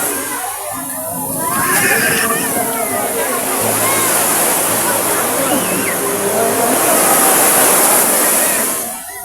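A broad, rushing wash of sea waves surging and breaking nearby at a beach in Quezon, loud and continuous, with some voices mixed into the roar.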